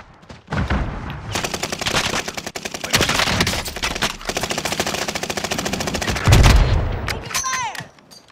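Enemy gunfire in a Hamburger Hill battle game: sustained rapid automatic bursts crackle loudly and densely for several seconds, with short gaps, a heavier boom near the end and shouted voices mixed in.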